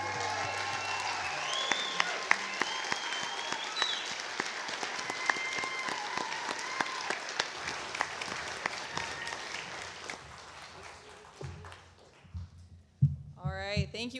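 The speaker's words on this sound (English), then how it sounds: "Can we get one more round of applause, please, for these four amazing artists?" Applause from an audience for four performing artists at a spring showcase, scattered clapping over music that fades, followed by a voice speaking at the end.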